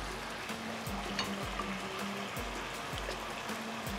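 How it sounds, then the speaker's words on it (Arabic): Butter, mustard and lemon sauce being stirred in a pan, a continuous soft sizzle with a utensil scraping around the pan in a repeating rhythm about once a second, close and without talk. "بقعد اقلب اقلب فيه لحد ما يفكك معايا"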